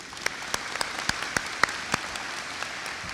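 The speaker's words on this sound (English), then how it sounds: "let's give him a round of applause." Applause from an audience at a high school ribbon-cutting ceremony, a steady bed of clapping with a few sharp, close individual claps standing out, continuous for the whole stretch.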